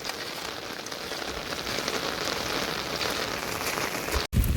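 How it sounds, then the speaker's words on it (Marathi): Heavy downpour on a village during an unseasonal summer storm, a dense steady hiss of rain pounding surfaces, continuous and close with no voices. "पाऊस खूप लागतो आहे आत्ता पण पाऊस सुरू झाला आहे"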